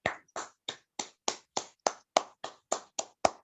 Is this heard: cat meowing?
no